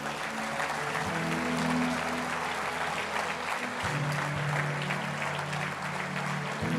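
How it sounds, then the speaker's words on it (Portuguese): A church congregation breaks into sustained applause after a sermon, steady, crowded clapping over a low, droning musical tone that shifts pitch partway through. "Dê ao Senhor um forte aplauso."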